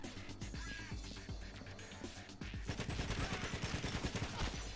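Assault rifle fire in GoldenEye: Rogue Agent, played on the Dolphin emulator: sporadic shots at first, then a rapid, rhythmic run of automatic bursts at fairly low volume.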